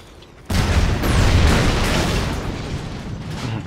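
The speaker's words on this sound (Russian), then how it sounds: "Транспорт взрывается." A vehicle explodes in the video game Hard Reset, bursting in after a brief quiet moment, followed by a long, heavy rumbling roar that slowly eases off.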